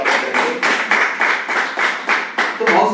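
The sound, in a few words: audience clapping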